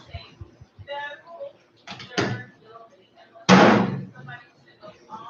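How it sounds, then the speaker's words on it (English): A brand-new microwave with no door handle is pried open and shut, giving sharp knocks and thudding slams followed by one loud bang, while someone talks throughout. "Only way you can open the microwave."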